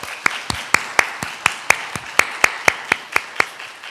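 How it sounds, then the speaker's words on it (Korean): A church congregation gives a round of thanks at a Thanksgiving Sunday service, heard as about fifteen sharp, evenly spaced claps, fairly close and clear, with no talking over them. "감사의 박수를 한번 하겠습니다"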